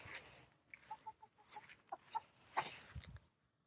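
A chicken clucks in a few short soft bursts nearby, with light rustling and a brief louder squawk partway through.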